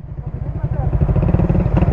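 An ECU-remapped motorcycle engine revving up, a close, loud, rising throbbing beat that speeds up steadily over a couple of seconds.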